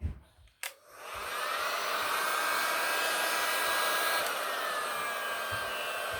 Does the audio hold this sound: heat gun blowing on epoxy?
yes